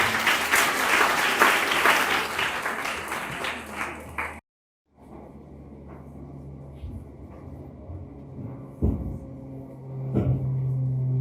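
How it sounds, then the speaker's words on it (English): An audience claps loudly for graduating sixth-grade pupils, dense applause filling the first four seconds. After a brief silence it continues quieter with scattered claps and room noise, swelling again toward the end. "Clap for them"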